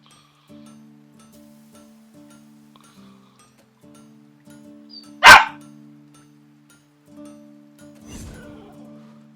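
A single sharp dog bark bursts out loud and close, following quiet tonal game music, with a softer rustle shortly after.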